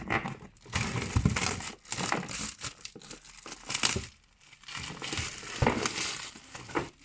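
Plastic packaging on an expensive purchase being torn open from the back, a steady close crinkling and tearing with short pauses and no talk.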